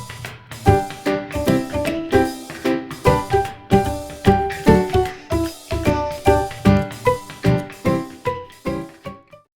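Food processor blending nasturtium flowers with half a litre of water, loud pulsing whirr rising and falling in steady bursts roughly every half second throughout.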